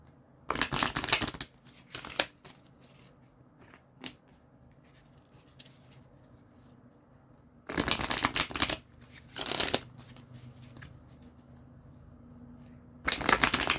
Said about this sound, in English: Nice and good and shuffled.